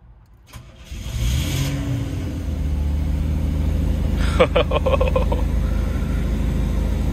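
A Ferrari mid-engine sports car with custom exhaust pipes cranks over and fires up, then settles into a loud, steady engine roar with a burst of revs partway through, heard up close.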